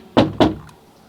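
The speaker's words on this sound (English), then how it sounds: "Maybe you should knock harder." Two firm knocks on a door, close and sharp, with a faint tap after and no talk over them.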